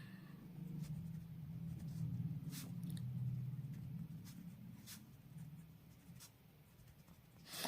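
A pen scratches across exam paper in steady, continuous strokes with small pauses and lifts, close and fairly quiet, with a low hum of room noise underneath.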